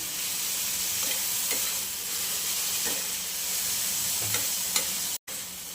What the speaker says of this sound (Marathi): मस्त परतून घ्यायचं आपल्याला.